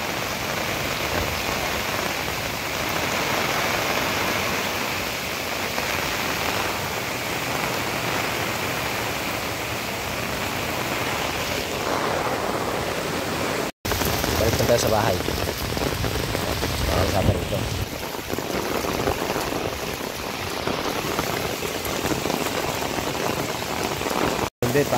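Typhoon Carina's heavy rain and gusting wind pour steadily and loudly for the whole stretch, a dense unbroken roar with brief cutouts, while someone talks faintly underneath.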